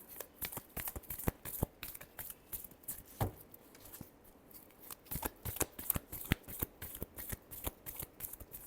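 A deck of tarot cards being shuffled in repeated riffling bursts, close and fairly quiet, with rapid papery flicks running throughout and no voices.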